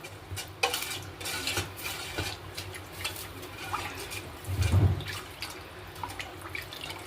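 A spoon stirring tomato water with chilli powder, turmeric and coriander powder in a metal pot for Andhra-style rasam, clinking and scraping with a few soft splashes, close and fairly loud.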